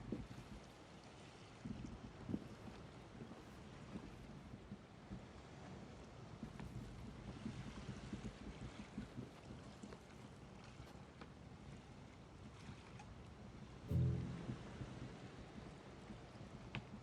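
A boat sails across open sea in an adventure video game, producing a steady wash of water and wind noise at low level with a brief louder thump near the end, and no voices.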